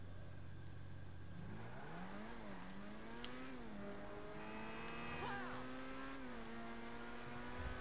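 An Itali GTO sports car in GTA V revs its engine, the pitch climbing, dipping and rising again through several gear-like swells, a continuous close engine drone with a voice speaking faintly underneath.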